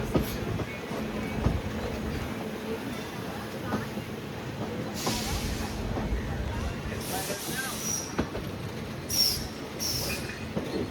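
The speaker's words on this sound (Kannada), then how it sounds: "ಮೈಸೂರು ಜಂಕ್ಷನ್ ಟು ಜೈಪುರ್ಗೆ ಹೋಗೋ ಟ್ರೈನು." A train at Mysuru Junction railway station gives off a steady rumble and hiss, with a few high squeals and sharp bursts, while a voice talks over it.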